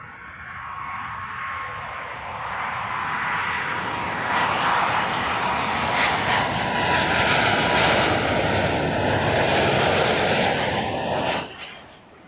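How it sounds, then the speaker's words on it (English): A British Airways Boeing 777 landing at Heathrow: a loud, broad jet roar that builds and sweeps past close by, then cuts off sharply near the end, with no talking. "Beautifully graceful arrival by the British Airways triple"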